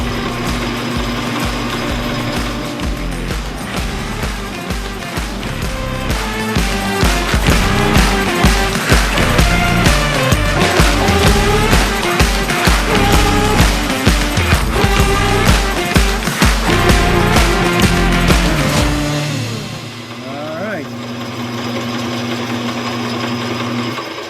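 A metal lathe parts off a workpiece for an eye flap collar, a loud, dense run of rhythmic machining chatter and ringing scrape that carries steadily, then drops to a quieter hum near the end.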